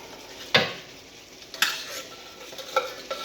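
A utensil scraping canned ravioli out of a metal can, with a few sharp scrapes and clinks spaced irregularly, close and moderately loud with no talking.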